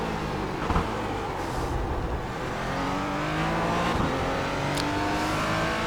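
A Porsche Cayman GT4 laps Laguna Seca in the iRacing sim, its engine droning steadily at moderate level with rising and falling pitch as it accelerates and shifts, heard alone without speech.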